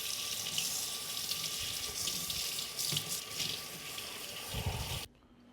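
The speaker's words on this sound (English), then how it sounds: "so we got our taters washed" Tiny Yukon Gold potatoes rinsed under a running kitchen tap, a steady hiss of water broken by splashes and rattling as the potatoes are handled, ending abruptly when the faucet shuts off.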